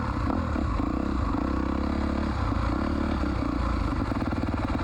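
An ATV engine runs nearby in a steady, rough, mid-pitched drone with some clatter, staying loud and even throughout, outdoors with no talk.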